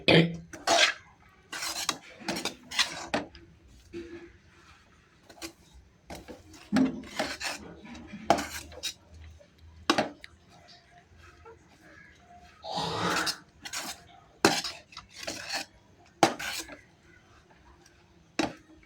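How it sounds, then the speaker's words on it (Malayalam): Utensil scraping and stirring food in a cooking pot, a series of short rasping strokes at an uneven pace, close and moderately loud with quiet gaps between them. "നല്ലപോലെ ഇളക്കി വേണം"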